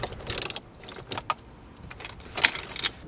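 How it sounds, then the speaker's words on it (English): Bolts being removed from a car radio mount in a 2017 Toyota Mirai dashboard, a few short metallic clicks, rattles and ratcheting taps close up, quiet with brief bursts. "we're gonna removing these 4 10mm bolts"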